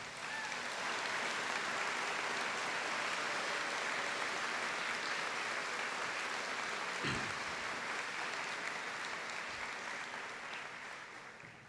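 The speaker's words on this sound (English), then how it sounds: "could we start by all giving yourselves a big round of applause?" A large audience at a university convocation ceremony gives sustained applause, a dense, even roar of clapping that holds steady and only begins to fade at the very end.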